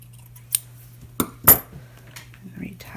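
Scissors snipping ribbon for a bow, a few sharp metallic clicks close by against a quiet background with a steady low hum.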